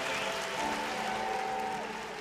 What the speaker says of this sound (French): Tonnerre d'applaudissements pour Voyou.